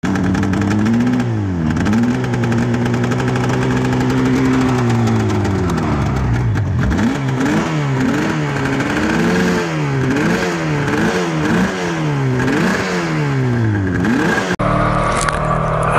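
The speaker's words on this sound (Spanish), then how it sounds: "Y luego arrancamos la moto y nos vamos." Yamaha RD 500 two-stroke motorcycle engine fires up and idles, then is blipped repeatedly in a series of sharp revs rising and falling close by, ending with a louder burst; no talking.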